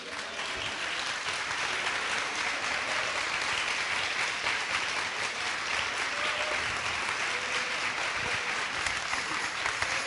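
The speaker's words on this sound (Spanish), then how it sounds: "¿Podemos darle un aplauso al Señor?" A church congregation applauds continuously for about ten seconds during a Spanish-language service, a dense, even wash of clapping with no talking over it.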